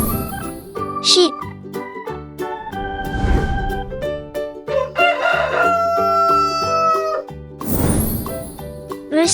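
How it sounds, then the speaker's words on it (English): Rooster crowing in a children's farm-animal learning sequence, a couple of bright crows set against a bouncy musical backing with jingling accents. "Rooster."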